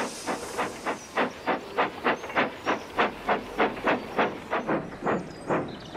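A steam tram engine in the Trainz railway game chuffs and hisses in a steady, evenly spaced rhythm of about a dozen sharp puffs, moderately loud and without talking.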